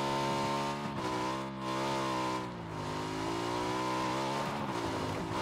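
A car engine in the PUBG video game drones steadily with a strong tonal hum that rises and dips slightly as the vehicle drives, loud and continuous for several seconds without speech.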